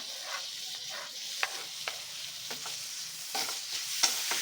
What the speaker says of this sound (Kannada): ಸ್ವಲ್ಪ ಟಮಾಟೆನ ಸ್ಮ್ಯಾಶ್ ಆಗೋವರೆಗೂ ಫ್ರೈ ಮಾಡ್ಕೊಳ್ಳೋಣ